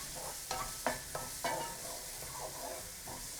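Onions softening in hot oil in a pan, with a steady sizzle and several sharp clacks of a utensil stirring and scraping the pan, heard close and alone.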